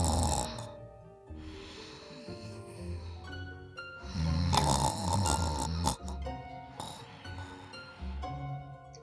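On a community theater stage, a performer lets out a long, loud, gurgling snore with rattling breaths that swell and fade over several seconds, a vocal imitation of a sleeping woman's snoring.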